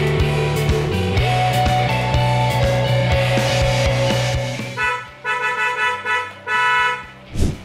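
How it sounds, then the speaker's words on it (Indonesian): A modified car horn, on a Nissan X-Trail or Honda Brio, blares in long sustained tones, then sounds in several shorter honks with brief gaps, loud and close. "benar-benar jadi keren banget suara klaksonnya nih"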